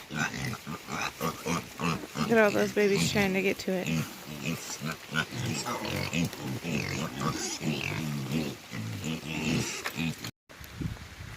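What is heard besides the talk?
pigs grunting and oinking at breakfast time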